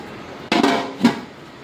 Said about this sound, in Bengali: এখানে ঢাকনা দিয়ে দিলাম।